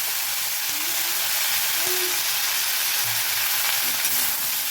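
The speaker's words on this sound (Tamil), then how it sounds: "நல்லா வதக்கிக்கோங்க." A handful of mint leaves sautéing in a pan for chutney, a steady, close sizzle and hiss with faint stirring scrapes and no talking.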